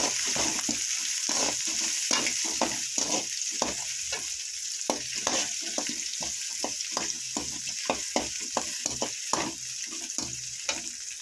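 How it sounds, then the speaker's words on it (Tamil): Shallots sautéing in a pan for crab gravy, a continuous loud sizzle broken by frequent rhythmic scraping stirs of a spatula, close up and without speech. "அதனால் சின்ன வெங்காயம் சேர்த்துருக்கேன் நான். வெங்காயம் நல்லா வதங்கட்டும்."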